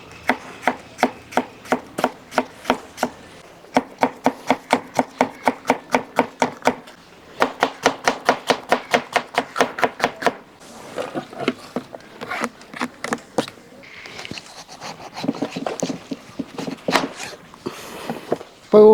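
Half a small cabbage is sliced with a knife on a board in a home kitchen, producing rapid, evenly spaced sharp chops in several runs, loud and close, loosening into softer irregular cuts near the end.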